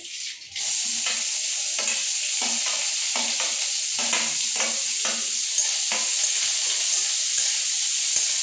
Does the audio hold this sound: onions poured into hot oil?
yes